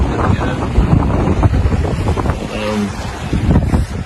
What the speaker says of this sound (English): gusts of wind come through, yeah, pushes you around a bit